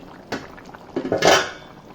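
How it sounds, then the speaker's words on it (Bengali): A lid is lifted off a cooking pot of simmering meat and potatoes, giving a few clanking metallic knocks and a brighter clatter near the end. There is no talking. "এবার ঢাকনাটা খুলে দেখি মাংসটা কেমন অবস্থায় আছে।"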